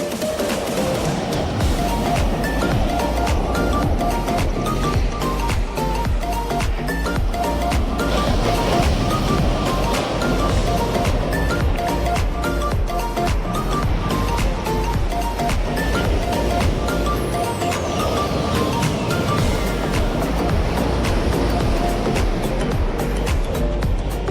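Loud surf roars continuously, with waves washing and breaking close by in a dense, unbroken rush.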